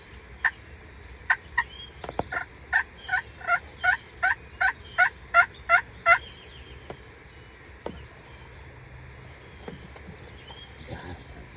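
A wild turkey gobbling in the Pennsylvania woods, a run of about a dozen distinct rhythmic gobble calls in a steady series, fairly close and clear over a quiet outdoor background.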